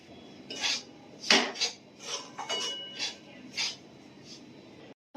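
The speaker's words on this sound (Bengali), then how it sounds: "সুজিও দিয়ে হালকা করে ভালো করে নেড়ে চেড়ে ভেজে নেব" A metal spoon scrapes and clinks against a pan while semolina is stirred and dry-roasted for oats idli, several distinct scraping strokes in an uneven rhythm, close and fairly quiet.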